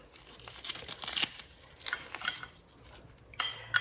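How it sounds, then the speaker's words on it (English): Bacon being crumbled by hand over tomato gravy and biscuits: quiet, close crinkling and crunching bursts in irregular clusters, with light clinks like a plate or utensil, no voices. "I'm gonna take some bacon and crumble it right over."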